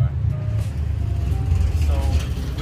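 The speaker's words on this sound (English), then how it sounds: "vehicle's driving by" A car passes by on the road, a steady low rumble of engine and tire noise that holds loud and close throughout, with a voice talking over it.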